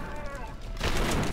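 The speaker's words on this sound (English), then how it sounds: "explosions, more shooting" Gunfire and explosions in the video game Trepang 2, a dense, crackling burst of shooting that swells louder into a heavy blast near the end.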